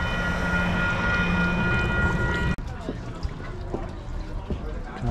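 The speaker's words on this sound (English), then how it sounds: "People just boarded the train" A train departing southbound in the Los Rios Historic District makes a rumbling noise with a steady mechanical hum that cuts off abruptly midway, followed by rolling rail clatter and scattered knocks.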